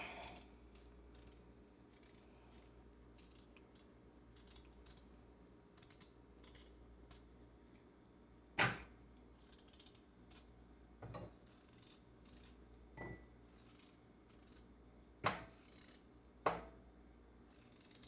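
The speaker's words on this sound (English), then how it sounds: "then I'm going to peel the potato" Soft scraping strokes of a potato being peeled against a quiet background, with a few sharper clicks and knocks scattered through, close up and unhurried.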